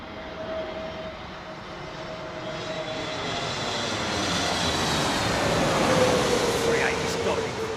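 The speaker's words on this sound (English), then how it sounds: "This is Bluebird's 320neo." A British Airways Airbus A320neo at Heathrow Airport gives off a steady jet engine roar with a sustained whine, growing gradually louder as it nears, while people talk over it.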